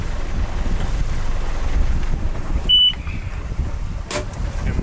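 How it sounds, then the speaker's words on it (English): A sailboat under way in wind, with steady broadband wind rush and water noise buffeting the microphone throughout, plus a brief sharp tone and a short burst near the end. "And we're sailing."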